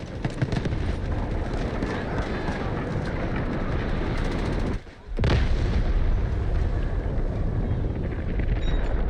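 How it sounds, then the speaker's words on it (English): Guided missile strikes in a video game rumble as a loud, sustained barrage of heavy booms and blasts, broken by a brief dip to near silence about halfway before the pounding resumes at full force. "Guided missiles launched."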